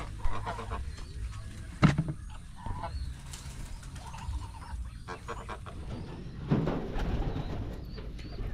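Geese in a backyard flock honk and call intermittently at close range, with a louder burst near the two-second mark and more calls toward the end, over a busy outdoor background.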